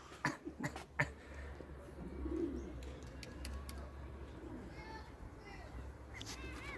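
Adana pigeons and homing pigeons coo softly in the open, faint against the wind, while a few sharp knocks come early and people talk in the background.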